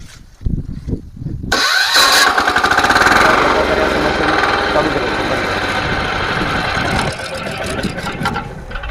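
The small engine of an 11 HP power weeder cranks by push-button start and fires up at once, then runs steadily with a loud, rattling mechanical drone that continues to the end.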